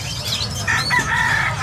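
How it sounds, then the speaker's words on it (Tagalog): Chickens for sale at a market, clucking and squawking up close in a short burst with some wing flapping and a rising crow-like call. "Ito kay tatay, marami siyang panindang manok."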